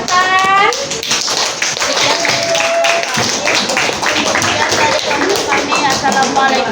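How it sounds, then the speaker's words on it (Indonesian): Classroom group clapping after a student presentation, fast rhythmic claps from several people mixed with lively chatter, high-pitched voices and some squeaky tones, loud and close throughout. "Tepuk tangan."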